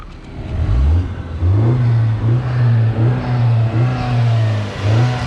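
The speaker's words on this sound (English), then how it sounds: "Because the intake sits over here, you get to hear the blow off doing all its work over there." A stock Honda Civic Type R FK2R turbocharged engine revving through repeated rises in pitch with whooshing intake and blow-off valve sounds between pulls, loud and close.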